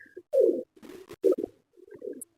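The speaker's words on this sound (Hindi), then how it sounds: "ये मेरा बड़ा कबूतर है" A large pigeon coos close by, several soft throaty bursts in an uneven rhythm with short pauses, in an otherwise quiet setting.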